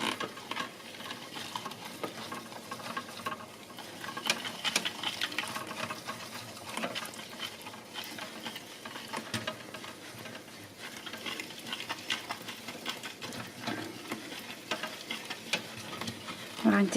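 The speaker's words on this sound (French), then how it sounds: "On n'hésite pas à mélanger avec un petit fouet à vinaigrette." A small vinaigrette whisk beating melted chocolate with vegetable margarine and a little water, producing a steady, busy swishing and fine clicking against the bowl that continues unbroken, no talk.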